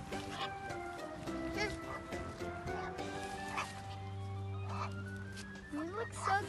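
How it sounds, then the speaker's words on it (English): Ducks quack and clamor while being fed, their repeated calls mixed with nearby voices talking. "There's so many ducks around here."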